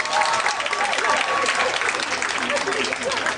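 Audience applause at a Southern California Fu Jen University alumni association 30th anniversary gala with a comedy performance: dense, steady clapping from a large crowd, mixed with voices throughout.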